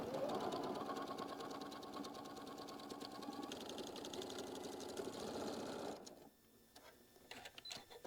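A sewing machine runs a steady quarter-inch seam on a quilt block, its fast even stitching loud and continuous for about six seconds before stopping, leaving faint handling noises.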